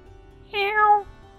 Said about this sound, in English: That is a cat noise.